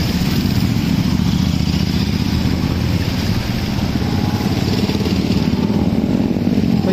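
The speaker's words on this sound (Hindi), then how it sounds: "इतना बड़ा ग्रुप, इतनी सारी बाइक है।" A large group of motorcycles rides together on a group ride, making a loud, constant, dense engine drone throughout with no voices heard.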